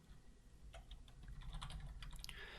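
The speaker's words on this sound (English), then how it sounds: "So let's just go ahead and type something in." Faint, quick keystrokes on a computer keyboard, typing text into Photoshop, come in short irregular bursts over a low steady hum, growing denser toward the end, with no talking.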